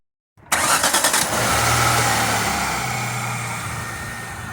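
A Jaguar X-type 2.1 litre V6 engine cranks briefly, catches, then settles into a steady, close idle, with no voices.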